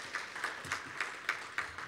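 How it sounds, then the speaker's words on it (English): Sparse claps from an audience at a symposium breakfast, a handful of separate hand claps spaced roughly every quarter second, faint and thin with no voices over them. "you can give that a round of applause"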